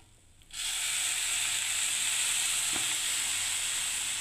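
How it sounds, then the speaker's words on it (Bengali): Hot water poured slowly into semolina frying in a pan for upma sets off a sudden loud, steady sizzle and hiss that starts half a second in and holds evenly to the end, with no talking. "এই দেখুন জলটা আমি আস্তে আস্তে দিচ্ছি এবারে।"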